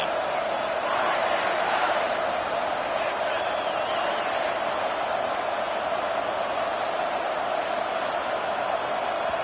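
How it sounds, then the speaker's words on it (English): A loud stadium crowd at an American football game keeps up a constant rumbling roar from start to finish, with no single voice standing out. "And with this place rocking, the crowd forces a false start."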